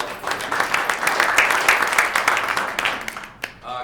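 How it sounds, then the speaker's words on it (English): A concert audience claps for cellist Caleb Van Brunt before a cello ensemble performance, a brisk round of close, crisp applause that tapers off near the end as someone begins to speak. "We have a round of applause."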